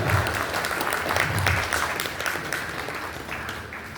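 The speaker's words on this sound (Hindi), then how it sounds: "जोरदार तालियों से जरा स्वागत कीजिएगा।" An audience at a provincial convention in SIDCUL, Haridwar, applauds with dense, sustained clapping, loud and close, slowly tapering over a few seconds with no speech.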